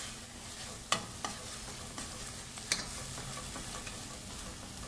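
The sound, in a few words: onions and tomatoes frying in oil in a pan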